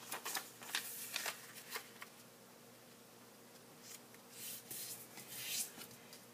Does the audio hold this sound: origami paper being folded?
yes